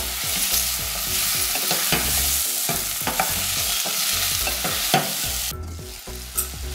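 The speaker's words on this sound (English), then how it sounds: "Every few minutes check back on it and stir the mix and repeat." Pumpkin cooking in a pan while being stirred, a constant loud sizzle broken by repeated scraping and clinking utensil strokes against the pan, with no voices.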